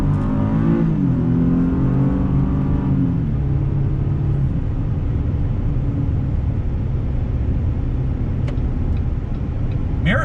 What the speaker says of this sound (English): Pulling on out here, back on throttle.